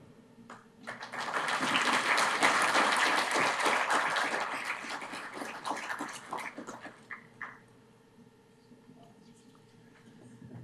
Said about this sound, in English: Let's give him a round of applause again for such a powerful speech.